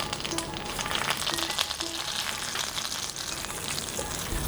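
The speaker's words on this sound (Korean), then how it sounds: "이제 팬에 버터 1조각, 땅콩 버터 1스푼, 알룰로스 1스푼 넣고 잘 섞으며 녹여주세요" Butter, a spoonful of peanut butter and allulose melting together in a pan, a soft even sizzle with faint stirring, quiet and continuous without talk.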